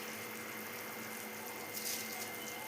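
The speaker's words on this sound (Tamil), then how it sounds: "தண்ணி கொதிக்குது" Water boiling in a cooking pot for mutton biryani, a steady, soft bubbling hiss that continues evenly and quietly without a break.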